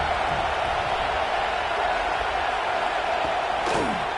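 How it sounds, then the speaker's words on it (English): Steady roar of a big stadium crowd in the College Football 26 video game, a loud, constant wash of fan noise for a 3rd down at Alabama's Saban Field, with a faint voice and a brief whoosh near the end. "The Tide crowd rolling noise down on the Saban field on 3rd down"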